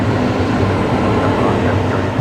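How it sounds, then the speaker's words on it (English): A train arriving on tracks beneath an airport viewing spot, a loud, dense rumbling roar that fills the whole moment without letup. "Oh man, that train's noisy, isn't it? Train arriving below us."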